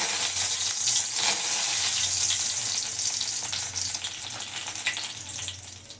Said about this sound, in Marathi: तर आपला तेल तापलेला असा. तेलामध्ये मी कढीपत्तो घालून घेते.